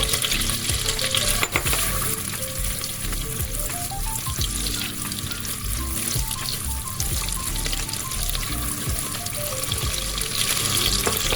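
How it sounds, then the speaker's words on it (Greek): Three slices of bacon fry in olive oil and a knob of butter, giving a dense, steady, close-up sizzle with occasional stirring and scraping in the pan. No voices. "Βάζω λίγο ελαιόλαδο, ένα κομματάκι βούτυρο, βάζω λίγο μπέικον, 3 φετούλες μπέικον"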